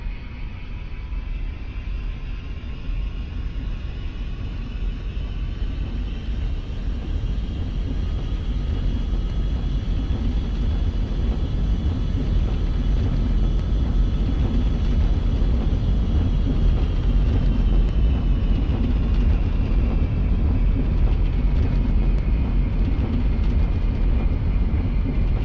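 Aircraft engine running at low throttle while taxiing on a runway in the VR flight game World Flight, a steady continuous drone with a faint rising and falling tone throughout.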